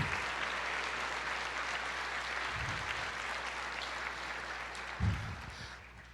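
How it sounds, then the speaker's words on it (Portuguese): A church congregation at an Easter service applauds in a steady, fairly distant wash of clapping that carries on evenly for several seconds, with a couple of low thumps near the end. "aplauda ao Senhor"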